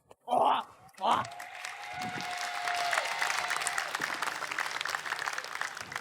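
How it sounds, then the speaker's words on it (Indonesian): A studio audience at an Indonesian comedy show bursts into sustained applause and cheering after two short loud shouts, clapping steadily and filling the rest of the stretch. "Tepuk tangan dong sekali lagi ya."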